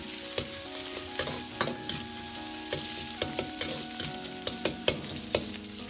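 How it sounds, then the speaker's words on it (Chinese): Pork sizzles in a wok with cooking wine and smashed garlic cloves, a spatula ticking and scraping against the metal in quick, regular strokes over a constant hiss. "接着放入少许的料酒挥发增香，稍微翻炒几下，再倒入拍蒜子炒出香味"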